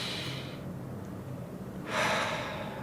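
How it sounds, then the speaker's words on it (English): Deep diaphragm breathing demonstrated while teaching calm before public speaking: a long airy exhale, a pause, then a louder breath near the end, close and alone without talk. "Do a diaphragm breathing, deep diaphragm breathing"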